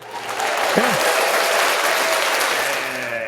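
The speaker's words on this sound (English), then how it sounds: "That applause" Audience applause swells into a steady, full wash of clapping that holds for a few seconds, with a brief vocal whoop early on.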